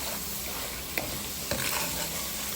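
Latik, coconut curds browning in a pan, sizzles steadily while being stirred, with a couple of distinct scraping knocks of the utensil against the pan cutting through the constant crackle.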